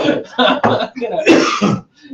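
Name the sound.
people coughing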